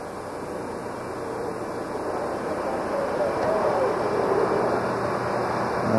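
The Space Shuttle on its STS-61 landing approach produces a steady, broad rushing roar that slowly builds in loudness, with a voice audible faintly underneath.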